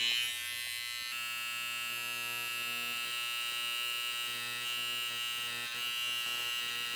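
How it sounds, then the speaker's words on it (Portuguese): An electric hair clipper buzzes steadily while cutting a razor part line into hair, with a constant mid-level hum that shifts slightly in tone as the blades touch the hair. "Eu venho simplesmente encostando a máquina, cortando os cabelos que estão em cima"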